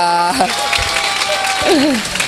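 A crowd applauds continuously, the clapping a dense wash under voices that rise and fall through it.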